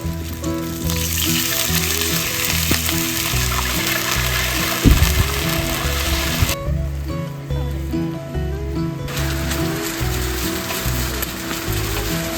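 Tocino and eggs fry for breakfast at a riverside campsite, a loud steady sizzle and crackle of oil filling the whole stretch, with a brief clatter of utensil stirring midway.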